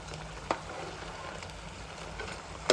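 Potato fries frying in hot oil: a steady, quiet sizzle with a soft crackle, and two brief sharper pops near the start and end.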